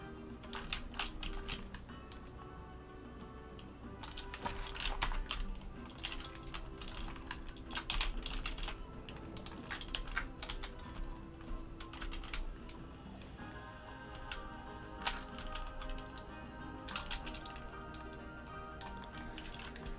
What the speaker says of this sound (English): hearing those clicks, the keyboard clicks